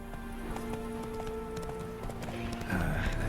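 Horse hooves clip-clop in a steady galloping rhythm in The Witcher 3 video game, moderately loud and close, with sustained musical tones underneath and a heavier swell near the end.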